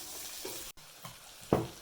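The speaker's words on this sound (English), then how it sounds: "We're trying to fry the potatoes, and it's cut really small so it cooks fast." Small-cut potatoes frying in mustard oil, a quiet low sizzle with a few soft stirring scrapes and a louder hiss of food moving in the pan at the end.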